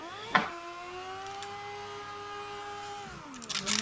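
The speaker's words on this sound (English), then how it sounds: "Just trying to do a burnout and see." A Mazda RX7 rotary engine holds a steady high rev during a burnout attempt, a sustained whine with a sharp knock near the start and a falling pitch toward the end, heard alone without talk.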